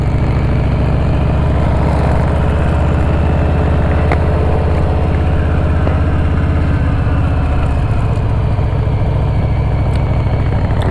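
A Royal Enfield Interceptor 650 motorcycle engine runs steadily at close range, a loud, continuous low rumble with a slightly uneven, temperamental idle and no talking over it.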